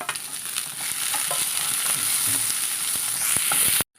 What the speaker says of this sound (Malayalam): നമുക്കൊരു മീഡിയത്തിൽ വഴറ്റിയെടുത്താൽ മതി നമുക്ക് തക്കാളി ചേർത്ത് കൊടുക്കാം